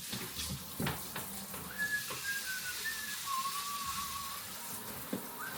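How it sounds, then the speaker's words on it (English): A man whistles a made-up tune while washing dishes at a one-basin sink, with thin, wavering notes drawn out across a few seconds over soft clinks and water sounds. "YouTube better not give me no copyright strike for whistling."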